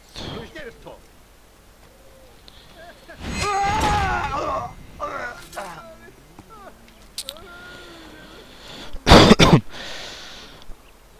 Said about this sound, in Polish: Sorry, ale mnie coś kaszel męczy.